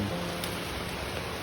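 Heavy rain pours steadily, a dense even hiss of falling water without pauses, loud and close with no voices over it.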